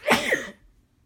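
A single close, sharp sneeze bursts out, then fades into near silence.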